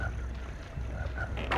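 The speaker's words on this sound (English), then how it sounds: "Oh, frog!" A frog croaks a few times in the Jak and Daxter swamp level, low and close over a murky game ambience.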